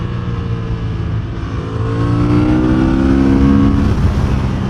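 Honda CB750 Hornet motorcycle engine revving hard on a race track, a loud sustained whine climbing in pitch through the gears, close and continuous with no talk.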